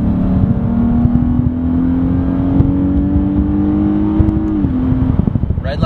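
A lowered Lexus IS 350 F-Sport accelerates hard in third gear, its engine note climbing steadily in pitch for several seconds, loud and close from inside the car, then dropping briefly as it shifts near the end.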